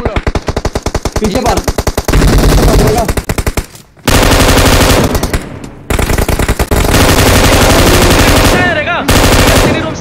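Loud, rapid automatic gunfire in a competitive shooter video game, with long bursts broken by brief pauses while players talk over the shooting.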